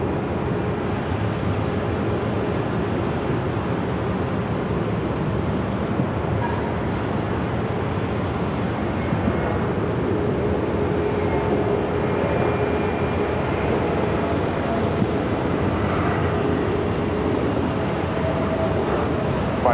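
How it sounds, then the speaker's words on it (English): Frontier Airbus A321 touching down on runway 8 at Phoenix, a broad steady roar of jet engines and rushing air heard from a distance, constant and unbroken with no voices. "Let's head over to the Frontier A321,"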